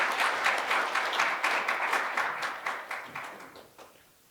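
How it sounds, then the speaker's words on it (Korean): Applause from council members in a district council plenary assembly chamber in Daegu, steady clapping from many hands lasting several seconds before gradually thinning out and fading. "다 같이 우리 격려의 박수 한번 드리겠습니다."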